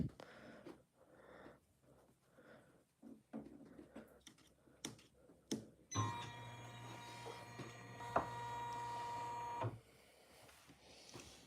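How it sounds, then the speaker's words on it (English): An embroidery machine arm moves with a steady motorized whir and hum lasting several seconds, with a sharp click partway through. It comes after a stretch of quiet handling knocks and soft breathing. "I'm just going to quickly move this embroidery arm out of the way."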